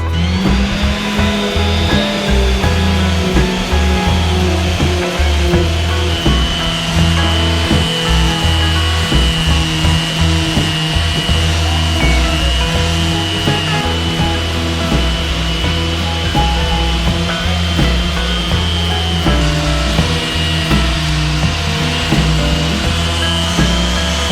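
A sander fitted with an 80 grit hook-and-loop pad runs continuously across a wooden table top, a loud, steady whirring grind with no pauses for the whole stretch.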